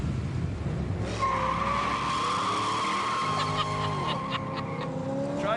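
A Corvette brakes hard, its tires squealing in a long, loud skid that holds a sustained whine and then bends downward as the car slows, with engine noise beneath.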